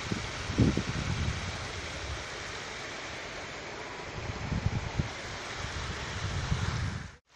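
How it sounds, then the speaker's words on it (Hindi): Water pouring out of an old gravity dam built over 80 years ago, a steady broad rushing roar with some wind buffeting on the microphone, continuous and fairly close before cutting off abruptly. "किस तरह से पानी निकल रहा है।"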